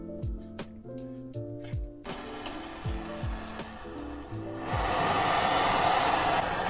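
A torch heats the threads of a compensator on an SD9VE pistol. Several sharp clicks and ticks come first, then a loud, steady roaring hiss of flame takes over.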